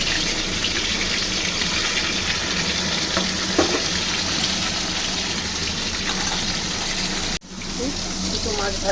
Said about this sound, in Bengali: বাকি দুটো আবার আমি ভাজা চাপিয়ে দিয়েছি